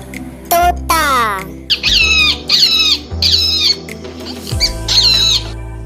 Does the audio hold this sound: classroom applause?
no